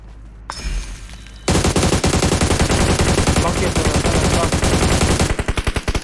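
Rapid automatic gunfire strafing a vehicle in a video game, a loud sustained burst of rhythmic shots for about four seconds that trails into a few spaced final rounds, no talking.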